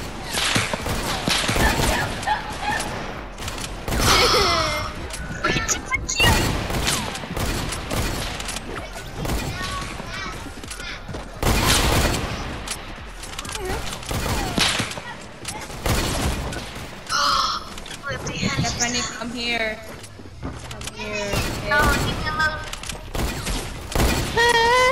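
Gunfire rings out in the video game Fortnite: sharp repeated shots and bursts spread through the action, mixed with game effects while a player talks.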